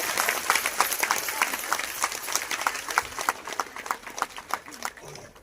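An audience at a Save the Western Ghats rally for the Bedti and Aghanashini valleys in Uttara Kannada claps in moderate, uneven bursts, somewhat distant, with voices mixed in.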